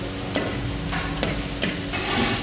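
Green chillies fry in oil in a pan, a close, continuous sizzle broken by several sharp knocks of a utensil stirring against the pan at irregular intervals.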